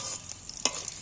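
Egg pieces fry in a pan with a faint, steady sizzle, broken by a light scrape or stir partway through; no voices.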